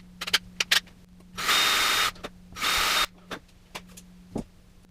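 A small drill bit whirs in two short bursts of about half a second each, close by, drilling guide holes while rewiring a 1993 Jackson Soloist guitar, separated and surrounded by sharp clicks and taps.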